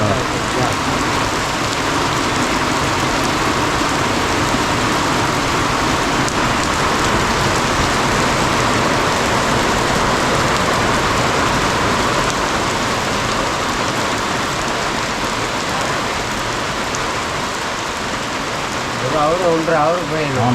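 Heavy rain pours steadily in a forest tribal village, a dense loud wash of drops that never lets up, with faint voices near the end.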